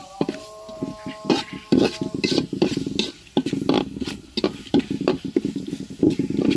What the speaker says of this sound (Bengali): একটু ভালো করে একটু কষায় নেই